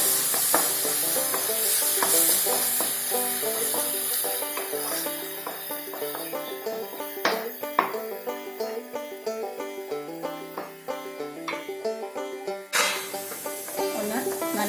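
Masala for a Kerala coconut curry sizzles and hisses in a pan while a spoon stirs it, with regular scraping strokes over a steady frying crackle, close and clear with little talk.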